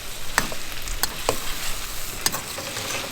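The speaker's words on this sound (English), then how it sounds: "Starting to see some good browning of that sausage down in the bottom" Sausage and sweet potato sizzle steadily in a pan over a camp stove, with sharp clicks of stirring punctuating the constant frying hiss.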